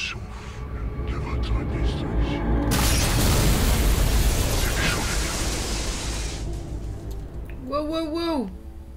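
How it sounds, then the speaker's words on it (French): A loud crashing burst of shattering glass and debris in the video game Mass Effect swells and rolls on for several seconds, followed by a short electronic warble. "On a eu le son de l'explosion du verre avant l'image."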